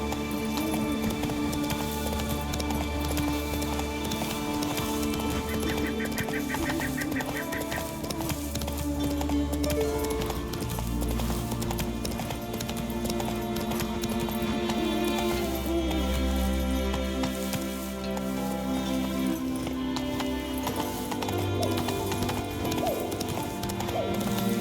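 Hooves of the horse Roach clip-clopping in The Witcher 3, a steady trotting rhythm under game music and ambience, with voices speaking over it.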